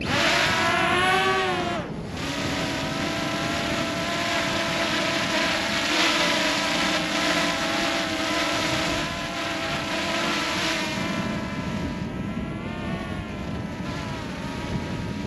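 Camera drone hovering in GPS mode outdoors on a very windy winter day, its steady propeller whine sitting close and loud with shifting harmonic tones, buffeted by wind noise for the whole stretch.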